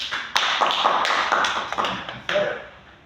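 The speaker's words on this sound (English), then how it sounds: "Clap for yourself." A small group claps for themselves in a microteaching classroom session, a few scattered bursts of hand claps over about three seconds, moderately close with no talking.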